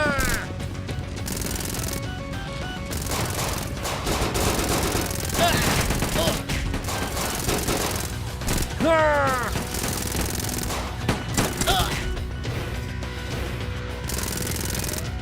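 Gunfire from an ambush on a gang squad in a Roblox Los Angeles game, with bursts of rapid shots and scattered cracks running continuously over dense background noise and game sounds.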